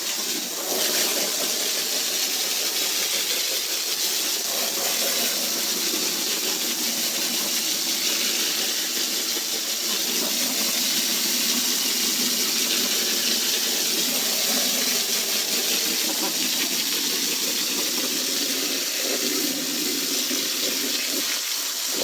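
A hose sprays water across the floor of a straw-bedded farm animal pen, making a loud, continuous hissing rush up close that holds steady throughout with no voices.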